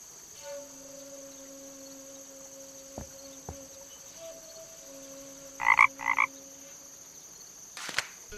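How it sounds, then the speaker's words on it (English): A frog in the video game The Night of the Rabbit gives two short, sharp croaks near the middle, set against a faint background hum and low tones. "Is that a frog I hear?"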